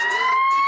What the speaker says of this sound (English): Is that ambulance?